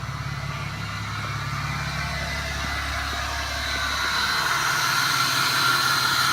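A Cummins diesel truck with its emissions system deleted idles with a deep, steady exhaust rumble that grows into a broader, louder roar toward the end, with no talk.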